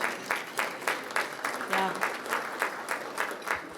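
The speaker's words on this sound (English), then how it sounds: "Here's some applause." Audience members at a chamber of commerce annual meeting clap in a slow, rhythmic pattern of distinct bursts, moderately loud in a hall, with a brief voice calling out partway through.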